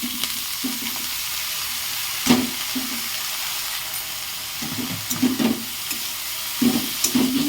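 Cabbage fries in garlic-infused oil with a constant close sizzle, while a spoon scrapes and stirs in short, repeated strokes.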